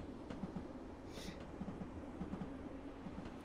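A simulated train in Train Simulator 2019 coasts along with a steady low rumble of rolling wheels and faint periodic rail clicks, with one brief hiss partway through, heard alone.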